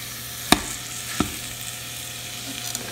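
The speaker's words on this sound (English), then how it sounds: "Just mash it with the spoon" Sweet potatoes are mashed with a spoon in a pan while frying, with two distinct sharp clacks of the spoon against the pan over a steady sizzling hiss.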